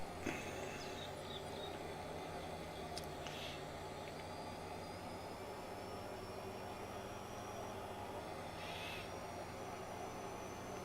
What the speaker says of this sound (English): Looks like we've got a nice long train going through.